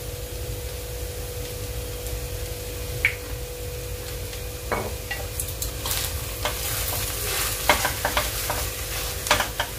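A vegetable filling with oregano and tomato sauce is stirred and fried in a pan for bread rolls, giving a steady low sizzle with scraping spoon strokes and clicks that grow busier toward the end, close and clear.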